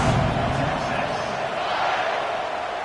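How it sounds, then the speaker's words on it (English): A football stadium crowd buzzes and murmurs steadily after a touchdown drive, a dense, loud wash of voices filling the stands with no single shout standing out. "this crowd is buzzing after that last score"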